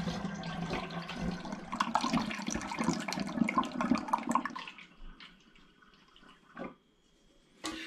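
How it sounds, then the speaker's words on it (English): Heavy, syrupy sweet plum water is poured into a demijohn for home-brewed plum cider, giving several seconds of gurgling liquid splashing close by. The pour then tapers into faint drips and a clunk. "Then my sweet apple-y plum water is going on top."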